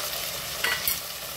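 Chopped tomato being stirred into sizzling ginger garlic paste in a pan for egg dum biryani, a short close scrape and sizzle with a couple of louder stirs near the end.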